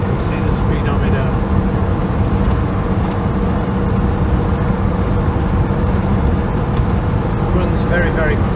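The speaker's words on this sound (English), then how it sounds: "Doing 70, cruising at 70 now." A 1979 Camaro cruises at 70 mph, its steady low engine drone and road roar filling the cabin without a break.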